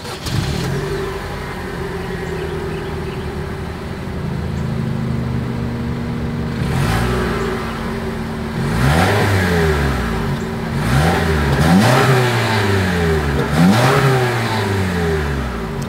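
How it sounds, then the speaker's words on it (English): A 2022 Toyota RAV4's engine idles and then revs repeatedly, with several rising and falling sweeps of exhaust note that grow louder and closer together toward the end, and no voices. "As always, here is that exhaust clip."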